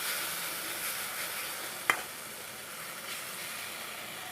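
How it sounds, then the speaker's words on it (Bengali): Masala sautéed in oil in a pan for aloo chingri, a steady close sizzle throughout with one sharp scrape or tap of the spoon partway through. "খুব ভালো করে কষিয়ে নিচ্ছি।"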